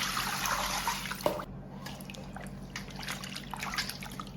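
Clean water pours and trickles into a bowl of pork, fairly faint and close by, with light splashing. A few soft clinks follow once the pouring eases.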